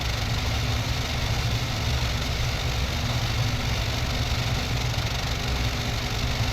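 A four-engine Pe-8 bomber's engines run steadily in the IL-2 Sturmovik flight game, a constant droning hum with a broad roar that holds an even, unbroken level throughout, with no voices over it.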